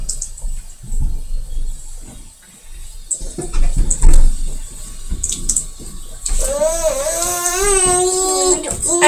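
Water runs into a kitchen or bathroom sink during a quick cleaning, starting partway through as a steady rush with squeaky scrubbing tones, after a stretch of quieter household shuffling and knocking.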